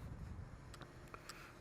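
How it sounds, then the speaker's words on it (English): Low, steady wind rumbles against the microphone at Winslow railway station, fairly faint, with a few light clicks and knocks in the background. "very windy here today in Winslow."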